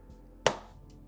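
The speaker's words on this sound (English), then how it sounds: "That was the sound of me throwing my sketchbook on the table." A sketchbook tossed onto a table lands with one sharp, fairly close slap, followed by a short fading rustle in an otherwise quiet room.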